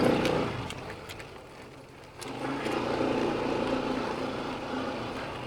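A drone's rotors whir in a steady, droning buzz overhead, loudest at the start, dipping for a moment and then holding a constant mid-level hum through the rest of the clip.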